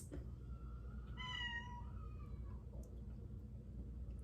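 A single cat meows clearly at close range, one drawn-out call with a rising and falling tone lasting about a second, over steady low background rumble in an indoor room.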